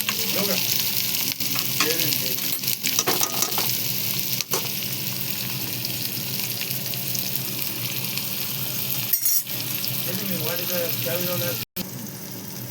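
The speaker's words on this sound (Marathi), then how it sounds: "मीठ टाकल्याच्या नंतर पुन्हा मस्त आपण परतून घेऊया कांदा टमाटा" Onion and tomato sautéing in hot oil with reddened garlic and a little salt, a steady broad sizzle with intermittent stirring scrapes, with occasional faint talk over it.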